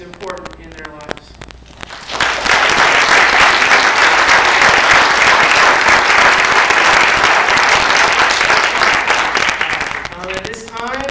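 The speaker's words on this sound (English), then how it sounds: "I'd just like to give, if you could, each one of these individuals a great round of applause" Audience applause at a speaking event, building from a voice into dense, sustained clapping that lasts about eight seconds and then fades as speech returns.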